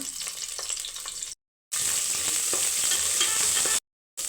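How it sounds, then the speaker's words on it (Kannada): Onions with cinnamon, cloves, bay leaf and cardamom frying in oil for kushka rice, a steady close hiss and crackle broken by two short silent gaps. "ಸ್ವಲ್ಪ ಎಣ್ಣೆ ಹಾಕ್ಕೊತಾ ಇದ್ದೀನಿ ಚಕ್ಕೆ ಲವಂಗ ಪಲಾವೆಲೆ ಏಲಕ್ಕಿ ಎಲ್ಲ ಹಾಕ್ತಾ ಇದ್ದೀನಿ ಈರುಳ್ಳಿ ಹಾಕ್ತಾ ಇದ್ದೀನಿ"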